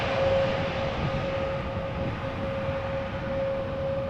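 A JetBlue airliner comes in to land at Amsterdam Schiphol Airport, a steady broad jet roar with a thin sustained engine whine running throughout, moderately loud and unbroken.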